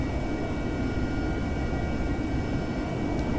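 Steady roar of an AV-8B Harrier jet engine with its nozzles swivelling in a DCS World carrier landing, loud and unbroken throughout, no voices.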